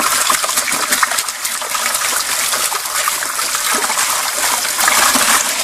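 Water spraying hard through a gold sluice to wash dirt off the riffles, a loud, continuous hissing gush with splashing and trickling close to the microphone and no talking.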